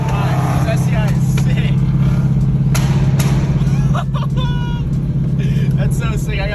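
A Subaru STI pulls hard on Interstate 75, its engine drone rising beneath loud steady road and wind roar, with a voice talking over it from inside a nearby car.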